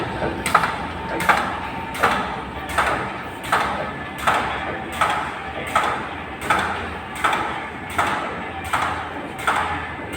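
A hot and cold fabric cutting and slicing machine runs steadily, with sharp rhythmic strokes roughly every 0.6 seconds over a constant mechanical hum, loud and close.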